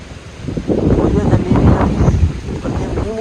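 Gusty wind buffets an outdoor microphone, making a rough, loud low rumble that swells and sags as a voice talks over it.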